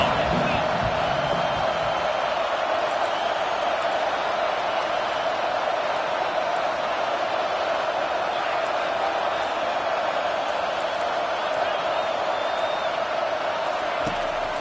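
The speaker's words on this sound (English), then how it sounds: "Decibels rising as the crowd gets behind this defense on 3rd down." Steady stadium crowd roar in an NCAA 25 college football game, a dense wash of noise rising on a third-down defensive stand, continuous and fairly loud throughout with a broadcast-style voice talking over it.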